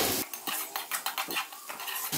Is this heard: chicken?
yes